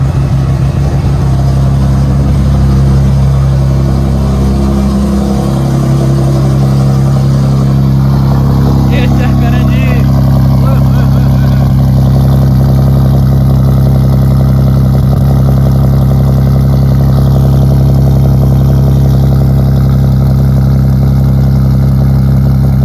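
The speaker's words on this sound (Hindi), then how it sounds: "आइए इस गाड़ी को स्टार्ट करते हैं और उसकी वैसी आवाज़ सुनते हैं" Nissan Skyline R34 engine running loud and close, a deep steady idle rumble with a low drone throughout after the start, no spoken voice over it.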